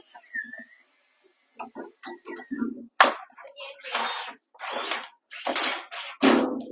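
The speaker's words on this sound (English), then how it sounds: "I'm going to hook my drill up to this." A power drill hooked to a brush kit for cleaning a dryer vent, whirring in repeated bursts, with a person talking and a voice heard between the runs.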